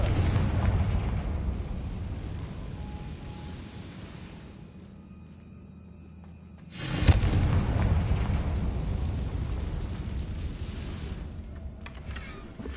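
A Confringo fire spell explodes in the wizarding video game Hogwarts Legacy with a sudden loud boom partway through, followed by a sustained roaring rumble over steady game ambience.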